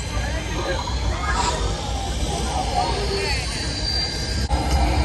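A spaceship take-off effect plays at Star Wars: Galaxy's Edge in Disney's Hollywood Studios, a steady, roaring jet-like rumble with a brief thump near the end, as people talk over it.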